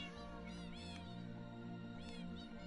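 Game birds that sound like cats, heard in a kids' mobile adventure, give a couple of meow-like calls over constant background game music, fairly faint and spaced apart.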